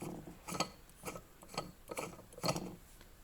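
A new magnet-mounted cartridge in a Toyota Prius pump clicks into place and turns slowly, giving a faint, steady series of soft ticking clicks about twice a second.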